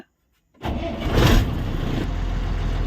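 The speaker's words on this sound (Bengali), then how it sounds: "আর এই গাড়ি এখন স্টার্ট করছে" A truck engine starting after a brief silence, cranking into a loud rumble that swells and then settles into a steady close idle.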